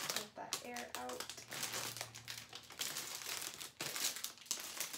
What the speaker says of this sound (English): it has this like adhesive tape, so you just peel it